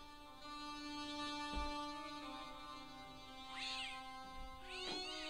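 A cat meows twice in the Broken Sword video game, two short rising calls near the end of the stretch, set over steady, droning in-game music with no speech.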